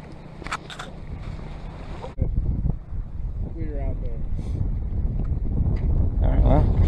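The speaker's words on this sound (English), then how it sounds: "It's windy and cold." Steady outdoor wind rushes and buffets the microphone at Pyramid Lake on a cold late-March day of fly fishing, with low rumbling gusts and some faint background activity.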